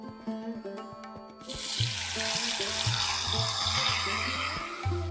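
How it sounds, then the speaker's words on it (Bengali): Water from a rinsed spice bowl hits masala frying in a pan for a ridge gourd curry, setting off a sudden loud, sustained hissing sizzle after a few light clinks, steady and close. "বাটিটা ধুয়ে একটু জল দিয়ে দেব।"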